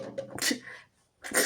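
A person sneezes twice close by in a quiet room, two short bursts with a brief pause between them and no speech over them.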